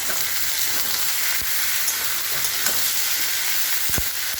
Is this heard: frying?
yes